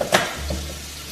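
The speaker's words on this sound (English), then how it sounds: "You hear that sizzle?" Food frying in a pot gives a short, loud sizzle that flares at the start and then settles into a steady crackling hiss.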